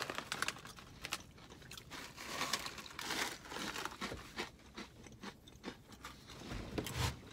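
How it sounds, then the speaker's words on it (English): Kay's Naturals protein pretzel sticks in sweet barbecue flavour are chewed close to the mic, giving repeated crisp crunches and crinkling bites in an irregular rhythm, with no talking. "This feels like I'm eating a snack mix, though."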